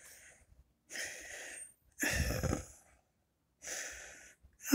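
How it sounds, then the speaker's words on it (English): A person clears their throat and coughs in several short, rough bursts separated by silence, close and moderately quiet. "I'm just cleaning my throat."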